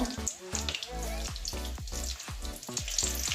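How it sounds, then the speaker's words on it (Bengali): Fish roe fries in a pan over raised heat, giving a continuous close sizzle broken by regular scraping strokes as it is moved around. "এটা ওই রকমই লাল লাল করে ভেজে নেব"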